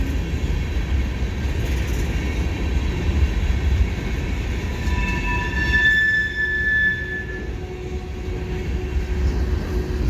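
A CN freight train with hopper cars rumbles steadily past at a bridge, with high metallic wheel squeals rising partway through before the noise eases slightly.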